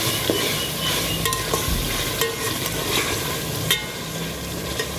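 Masala frying in oil for bhindi fry, a steady close sizzle with repeated scraping stirs and occasional spoon taps against the pan.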